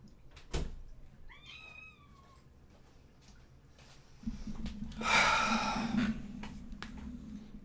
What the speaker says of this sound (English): He's the new kitty.